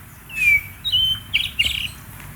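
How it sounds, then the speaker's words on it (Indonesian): A bird native to Bangka gives a few sharp, high whistled chirps and short squawky calls, close and clear against a quiet background. "Burung asli Bangka ini dia."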